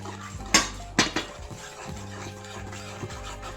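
A spoon stirs semolina into eggless cake batter in a bowl, with two sharp clinks against the rim followed by soft scraping and mixing sounds, close and fairly quiet.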